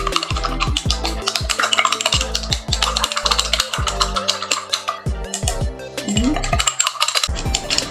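Spoon stirring milk into water in a lab container, rapid clinking strikes against the glass in a steady, ringing rhythm, close and fairly loud.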